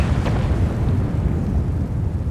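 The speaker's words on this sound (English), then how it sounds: "There goes the dynamite." A dynamite blast in the video game Spore rolls out as a dense, low rumbling boom that fills the whole stretch at steady loudness, with no voice over it.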